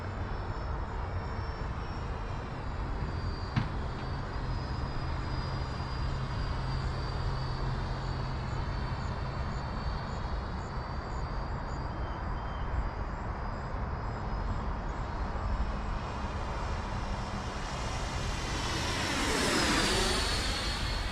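A Freewing T-45 Goshawk 90mm electric ducted-fan RC jet flies overhead, a steady high-pitched whine holding throughout, then swelling and rising sharply near the end in a loud close pass.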